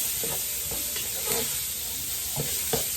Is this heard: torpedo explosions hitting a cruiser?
no